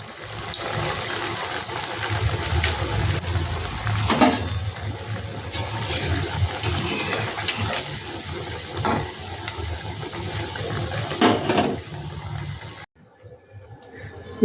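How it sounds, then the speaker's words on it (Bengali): Potato fingers frying slowly in hot oil give a steady, close, broadband hiss and bubble that carries on without a break, then cuts off near the end. "এগুলো কিন্তু একটু ধৈর্য নিয়ে বন্ধুরা আস্তে আস্তে ভাজতে হবে।"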